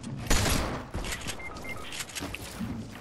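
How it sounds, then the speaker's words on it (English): Gunfire from a shotgun in the Fortnite video game, a loud blast near the start followed by a couple of quieter shots over busy game background noise. "He shot me with a shotgun from where?"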